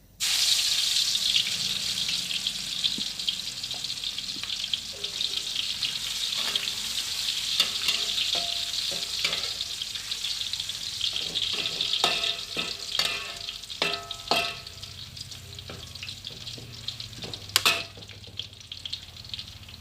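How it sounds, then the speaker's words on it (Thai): Garlic hitting hot oil in a wok throws up a loud, continuous sizzle, with sharp crackles and spatters becoming denser and louder toward the end, and a stirring scrape near the close. "น้ำมันร้อนนะครับแล้วก็ใส่ กระเทียมลงไปเลย"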